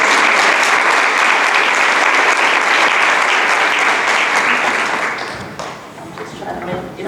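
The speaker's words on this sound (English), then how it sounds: "Let's give her a round of applause." An audience at a neurodiversity advocacy meeting breaks into loud, sustained applause that runs for about five seconds before fading quickly to a few scattered claps.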